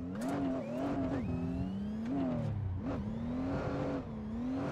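A Nissan Z engine howls at full throttle in a sim racing game, its pitch climbing and dipping through gear changes over steady loud tire and road noise, with no talk, close and continuous throughout.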